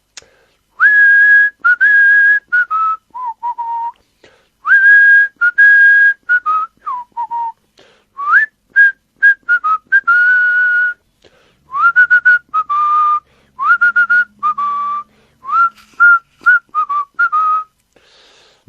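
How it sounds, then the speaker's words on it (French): Someone whistles a melodic tune alone, clear and close, in short phrases with brief pauses between them. "Allez, encore un petit sifflement pour vous attendre."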